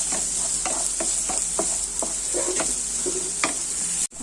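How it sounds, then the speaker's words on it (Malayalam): Onions sautéing in a pan for a pumpkin-flower thoran, with a bright constant sizzle under a rhythmic series of spatula scrapes and taps, roughly one every half second, close and clear, ending in an abrupt cut. "ഈ സവാള ഒന്ന് നമ്മൾ വഴറ്റിയെടുക്കാം"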